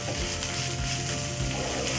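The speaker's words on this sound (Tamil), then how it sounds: "நெய்யில் கொஞ்சம் வதக்கிட்டோம்." Flattened rice (aval) sautéing in ghee gives a steady, close sizzle with faint scraping and stirring throughout, and no one speaks.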